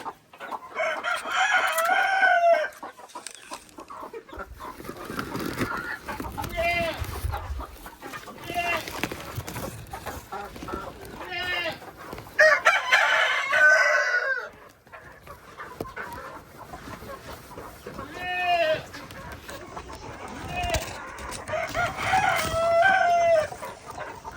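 Chickens cluck and a rooster crows around newly hatched chicks on a farm, with repeated calls across the whole stretch and some talking mixed in.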